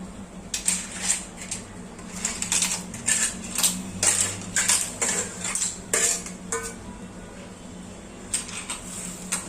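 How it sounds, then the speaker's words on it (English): Clams tipped into a pot of boiling Goan tisreo curry, a run of clinking, rattling shell-on-metal clatters up close, with no talk. "Let's add the clams to the curry."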